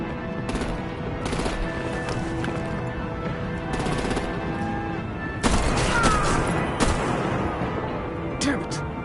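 Gunfire and artillery fire in the Batman: The Enemy Within video game, a dense, sustained barrage of shots with louder bursts toward the end, mixed with talk and other game effects.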